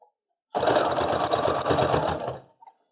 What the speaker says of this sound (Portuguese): para a máquina não sofrer tanto, eu começo costurando aqui na parte que está mais fina